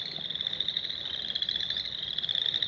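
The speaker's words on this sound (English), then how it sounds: "All the frogs," Frogs in a spring wetland trill in a dense, pulsing chorus, loud and steady throughout with no other sounds.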